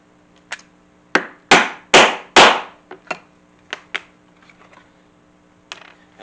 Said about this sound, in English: and then use my setter and my mallet.